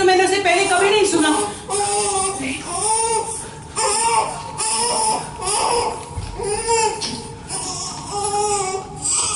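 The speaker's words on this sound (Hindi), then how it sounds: "ये तो मेरा बच्चा रो रहा है" An infant crying loudly and continuously close by, in repeated wailing bursts with short breaths between them, with no other sound over it.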